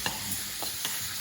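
Butter sizzling in a hot frying pan, a soft steady hiss close by with a couple of faint pops, no talking.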